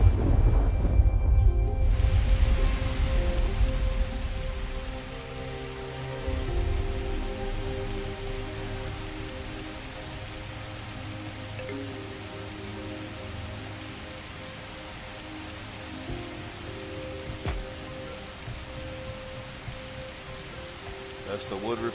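Heavy rainstorm with rumbling thunder in the video game Universim, steady wash of rain over a deep low rumble, loudest at the start and easing to a continuous backdrop with sustained tonal ambience.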